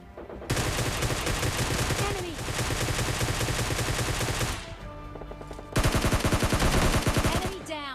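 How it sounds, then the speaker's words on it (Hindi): Dense bursts of automatic gunfire in the video game PUBG, loud and continuous, with a short break before another rapid volley, and a voice talking faintly underneath. "उधर की तरफ से भी मतलब फायरिंग के साउंड आ रहे थे"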